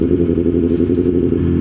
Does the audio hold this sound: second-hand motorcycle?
yes